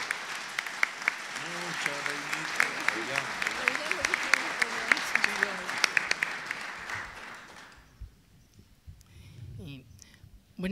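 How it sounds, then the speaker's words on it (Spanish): Steady, full applause from an audience at an anniversary panel of Mexico's national anthropology institute, welcoming a speaker; dense clapping holds for about eight seconds under a voice, then fades into quiet room sounds. "brindemos un aplauso para ella"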